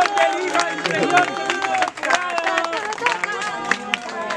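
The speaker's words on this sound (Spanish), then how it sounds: "Aplausos fuertes para vos" An audience applauds a tournament champion at a league final, steady clapping and crowd noise running throughout, with someone talking loudly over it.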